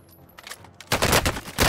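Gunfire in Call of Duty: Warzone: faint scattered shots at first, then a loud, dense burst of rapid automatic fire that carries on close and harsh to the end.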